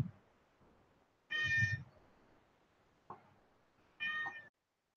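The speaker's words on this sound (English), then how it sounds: "let me let this cat in real quick." A house cat meows twice near the microphone, two short, clear calls a few seconds apart against a quiet indoor background.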